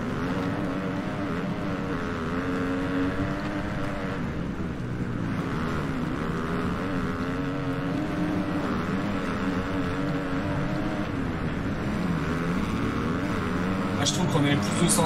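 A motocross bike engine in the video game MXGP 2020 drones at high revs in a continuous, shrill whine that stays steady throughout, with a speaker talking over it.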